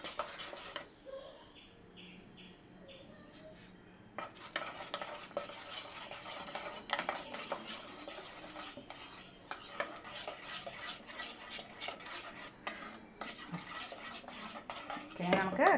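Unniyappam batter being stirred in a bowl, a steady scraping and swishing run that grows busier partway through, close and fairly quiet.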